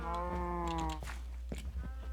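A Minecraft cow gives a long, loud, harmonic moo lasting about a second, followed by softer game clicks and shuffling noises with no talking.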